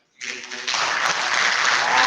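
Audience applause at a teach-in swells quickly into dense, sustained clapping that grows louder and fills the room, with a brief voice at the start.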